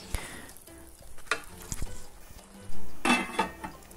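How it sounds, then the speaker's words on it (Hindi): Chicken korma with cream sizzles and fries in a pan as it is stirred, with scraping spoon strokes and a loud burst of hissing partway through. Nobody speaks. "क्रीम डाल के इसको अच्छी तरह से भून लेंगे 2 से 3 मिनट के लिए।"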